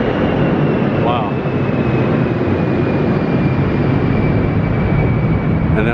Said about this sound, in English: And that was a jet taking off.